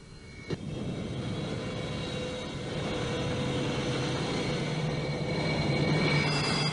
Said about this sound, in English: Their leader flies the Su-27UB conversion trainer.